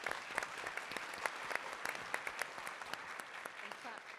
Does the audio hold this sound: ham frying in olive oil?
no